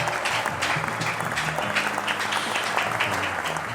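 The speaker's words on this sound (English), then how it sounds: "give him a round of applause for Boogie, everybody" Steady, dense applause from the audience at an uncut live show in a vintage shop in Yellow Springs, Ohio, holding at an even level with a low murmur beneath.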